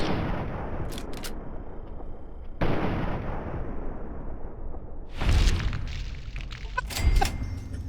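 Heavy gunfire in Fallout 3 echoes in booming, rumbling bursts, with two sharper, louder blasts near the end over a continuous low roar.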